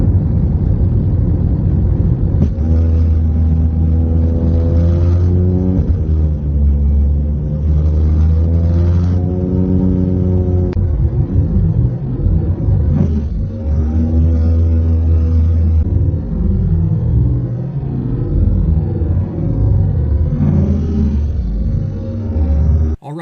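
Muffled airplane engine heard from inside the cabin as it is struck: a loud, deep droning hum with strong steady tones, shifting pitch and swelling in waves, with a brief rougher disturbance midway, continuous for over twenty seconds.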